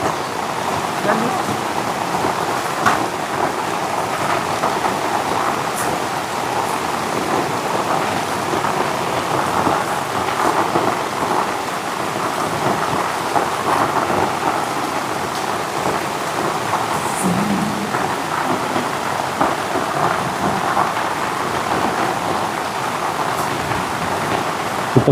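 Heavy steady rain pouring on a mountainside during weeding, a dense constant hiss throughout with occasional low rumbles that suggest distant thunder.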